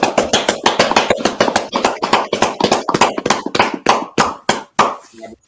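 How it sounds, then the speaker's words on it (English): A group claps hands together in a steady, fast run of sharp, close slaps that thin out into a few separate louder claps before stopping. "Let's clap it up."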